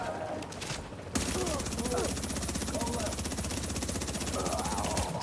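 Sustained gunfire from a global event in The Division, a dense rapid rattle of shots running continuously at steady loudness with game sounds layered in and a voice briefly audible.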